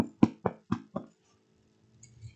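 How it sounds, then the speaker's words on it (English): Four firm knocks land on a door in an even, quick rhythm, close and clear, followed by quiet with faint rustling. "There was a rap on the common room door,"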